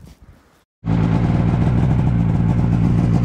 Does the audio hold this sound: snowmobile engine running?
yes